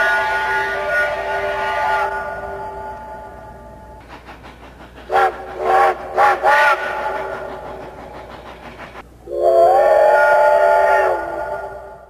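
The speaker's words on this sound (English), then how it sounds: "the 3254 was given an out-of-tune Canadian National 5-chime step-top whistle" Steam locomotive 3254 sounds its out-of-tune Canadian National five-chime step-top whistle in loud, close blasts: a long opening wail, a series of short toots, then a final sustained blast.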